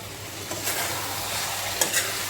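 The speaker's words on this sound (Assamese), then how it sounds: "এতিয়া মই এইখিনি এবাৰমান লৰাই দিম।" Chicken curry with masala and tomatoes being stirred in a pan, a low steady sizzle with a few soft scraping strokes of the spoon, close and quiet, with no talking.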